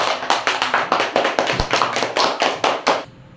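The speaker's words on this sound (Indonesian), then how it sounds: "Bagus, beri tepuk tangan." A small group claps in a quick, even rhythm, about a dozen sharp beats close by, then stops abruptly.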